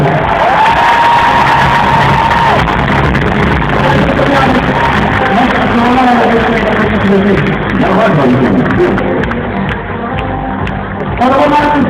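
Audience applause and cheering for a band at the 2014 mama music awards ceremony, a dense crowd roar with shouts and whoops that stays loud throughout, mixed with music and an announcer speaking.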